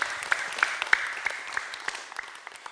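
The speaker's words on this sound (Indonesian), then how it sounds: "tepuk tangannya untuk Pak Amsarudin." Sparse audience applause in a mosque gathering, a thin scattering of individual claps at moderate distance, fading toward the end.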